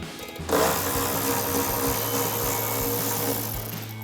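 A 10mm socket tool backs out a headlight bolt on a 2010-2024 Toyota 4Runner, giving a close, loud, continuous mechanical whir with a low hum that runs for about four seconds.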